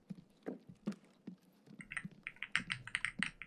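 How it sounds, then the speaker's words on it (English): Clicky computer keyboard keys clatter in quick, fairly quiet bursts, scattered keystrokes at first and then a denser run of rapid typing. "Keyboard clicky sounds so good"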